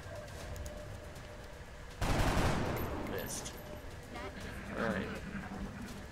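Gunfire in X-Com Enemy Within, a sudden loud burst of shots that decays over about a second, followed by fainter clattering effects, with quiet game ambience before.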